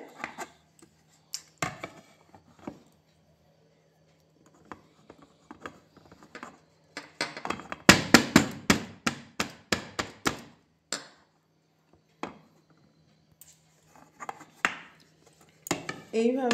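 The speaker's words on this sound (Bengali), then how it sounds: "এবার আমি আর একটা প্লেটে তুলে নেব।" A metal plate is set down and handled in a home kitchen while steamed dhokla is turned out onto it, giving a run of sharp clinks and clatters of metal dishware in quick succession, with quieter scattered knocks before and after.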